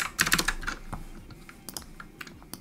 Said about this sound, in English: So I'm just going to hit R on the keyboard